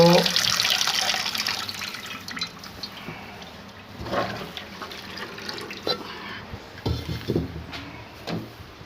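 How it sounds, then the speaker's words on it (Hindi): A kadhai cooking pot being washed under a running kitchen tap, water gushing and splashing into the sink with intermittent clanks and scrubbing, close and fairly loud throughout. "जब ये ठंडा हो गया इसे 1-2 पानी फिर धोना है।"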